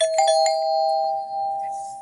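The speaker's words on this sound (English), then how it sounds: "Wow, a doorbell." A doorbell pulled from a gutted kitchen gives one clear, ringing chime that sustains and slowly fades, close and alone with no talk over it.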